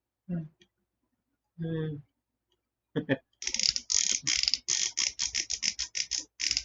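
Ratcheting joints on a Power Rangers Retro Morph Ninjor toy figure give a quick series of crisp, close clicks in short bursts after a few spoken words.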